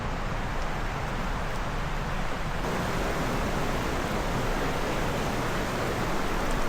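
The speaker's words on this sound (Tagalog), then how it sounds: "medyo malakas ang agos ng tubig" Rushing river water roars steadily and loudly close by at a riverside campsite, a dense unbroken hiss of a fast-flowing river, with no other sounds.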